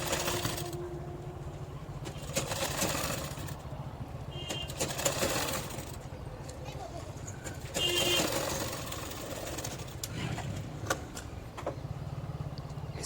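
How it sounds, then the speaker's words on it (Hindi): A sewing machine stitches along a sleeve in several short runs of fast, steady whirring and clatter, with brief pauses between them and faint background noise. "इसके ऊपर से हमने एक पैर भर की सिलाई लगा ली"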